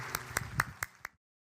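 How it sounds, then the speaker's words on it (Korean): A few people in a church congregation clap for about a second, roughly five distinct claps in a quick loose rhythm, fairly close, before the sound stops abruptly. "뜨거운 박수로 환영하도록 하겠습니다"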